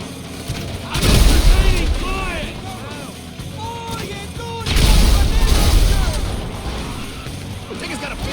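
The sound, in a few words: grenade launcher explosions in the video game GTA V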